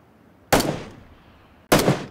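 Two sharp gunshots from PlayerUnknown's Battlegrounds, fired about a second apart, each a loud close crack with a short trailing decay over quiet background.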